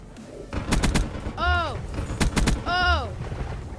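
Video game gunfire from Call of Duty Black Ops III multiplayer on the Nuketown map: loud, close bursts of rapid shots alternate with two sweeping, warbling electronic tones.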